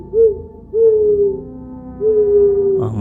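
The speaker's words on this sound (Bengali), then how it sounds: "পেঁচাটা আবার ডাকছে।" An owl hoots three times in a horror story's sound effect, each call a clear, mellow, slightly falling tone, alone in an otherwise still night atmosphere.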